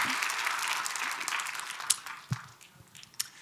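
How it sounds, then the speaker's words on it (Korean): A church congregation gives brief applause during a Korean Bible lecture, a burst of many hands clapping that thins out and fades within a few seconds, leaving scattered single claps. "이 도표를 주신 하나님께 영광의 박수."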